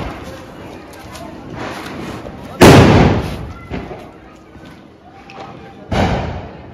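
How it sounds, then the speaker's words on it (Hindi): Firecrackers burst in a street during Diwali 2023: two sharp, loud bangs spaced a few seconds apart, each ringing out briefly over a steady background of crowd noise and voices. "बम चलाना सिखाता हूं"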